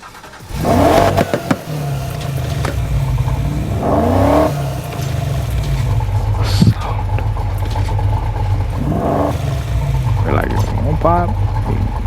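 A BMW M5 drift car in Need for Speed Heat revs hard, with its engine and exhaust climbing in repeated loud bursts over a steady idle rumble.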